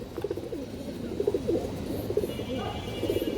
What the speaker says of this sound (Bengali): একটা তোতা মাদি কবুতর